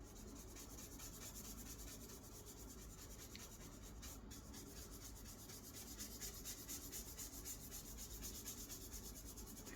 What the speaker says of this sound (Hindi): बस अच्छे से पकड़ के घिस घिस के ब्लेंड करो